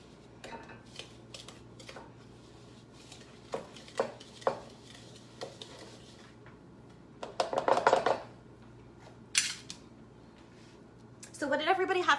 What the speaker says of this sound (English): I fold all of the ingredients together